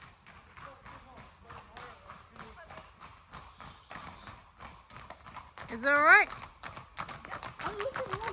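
Horses' hooves clip-clop along a mountain path in a nature park, a light, irregular tapping under steady chatter from several people nearby, with a brief louder voice midway.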